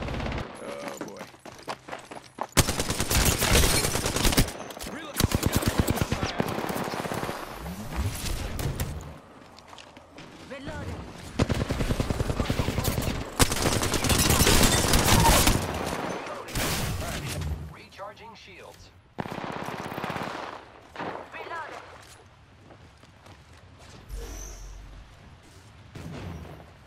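Bursts of incoming gunfire in a shooter video game, loud rattling volleys coming in waves with quieter gaps between them, with a voice talking at times.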